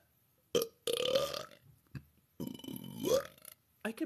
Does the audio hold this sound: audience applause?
no